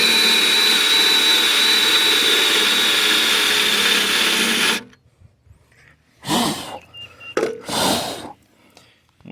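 A power drill bores out spot welds on Meyers Manx bodywork, a loud, steady whirring grind for several seconds, then silence broken by two or three brief, rough bursts as the bit bites into the metal again.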